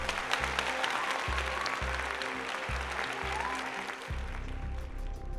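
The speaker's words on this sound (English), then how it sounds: "so give a round of applause for him" Applause as a YouTuber is introduced, a steady wash of clapping carried under a low, pulsing musical beat that stops near the end.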